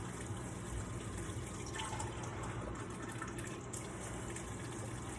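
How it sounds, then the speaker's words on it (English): Two cups of hot water poured into the middle of a bowl of flour for scone dough, a faint, steady splashing stream that runs unbroken throughout. "So here's 2 cups of hot water in the middle."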